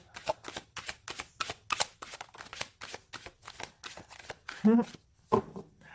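Tarot cards shuffled in rhythmic bursts of quick riffling snaps, close and clear, followed by a couple of cards being pulled, with a voice speaking briefly near the end.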